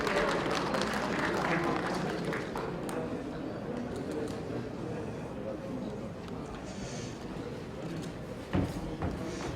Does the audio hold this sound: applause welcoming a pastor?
yes